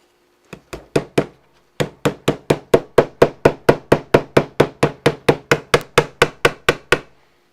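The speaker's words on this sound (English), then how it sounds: "And we'll reinstall that rear roll pin." Crisp metallic hammer taps driving a roll pin into an M&P 1.0 pistol frame: a few spaced strikes, a pause, then a long steady run of about twenty evenly timed close taps.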